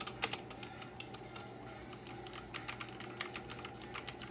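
Keys clatter on a Black Shark gaming keyboard in a quiet room, a close, irregular stream of sharp clicks and taps at moderate volume with no voices.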